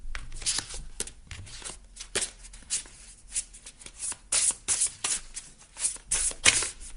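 Tarot cards being shuffled by hand during a card reading, a steady run of papery riffles and slaps repeating for several seconds, close and fairly loud with no talking.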